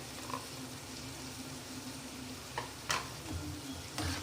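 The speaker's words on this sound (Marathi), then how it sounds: "आता यामध्ये आपण जे परवलचे काप केले होते ते टाकूया।" Slices of pointed gourd (parwal) fry in a pan for a dry potato and gourd stir-fry, giving a steady low sizzle with a few sharp crackles and clicks near the end.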